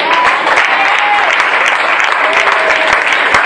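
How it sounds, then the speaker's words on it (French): A church congregation applauding at a worship service, dense sustained clapping close and loud from start to finish, with a voice faintly under it. "Est-ce qu'on peut les acclamer encore?"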